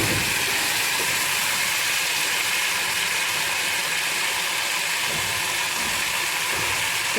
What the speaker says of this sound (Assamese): এতিয়া এয়া ঢেকীয়া ভাজিছোঁ,